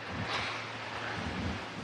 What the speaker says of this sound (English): our equipment is actually getting blown over now by some of these gusts of wind